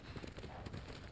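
A horse's hooves clip-clop in the video game Ghost of Tsushima, a quick, even rhythm of close, moderately loud hoofbeats over a short stretch.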